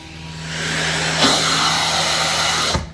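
A high-suction carpet extraction machine runs loud and steady, a broad whooshing roar with a low motor hum beneath, briefly surging partway through before cutting off near the end.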